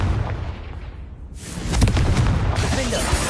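A Confringo blasting curse goes off in the Hogwarts Legacy video game, a loud booming explosion that bursts in about midway and leaves a dense, rumbling roar through to the end.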